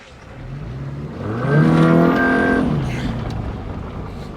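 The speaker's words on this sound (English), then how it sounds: "let's see if we can kick up a little dust with that all-wheel drive system" An all-wheel drive car accelerates hard on a dirt road, its engine note climbing and swelling to a loud peak midway before easing off, with no voices.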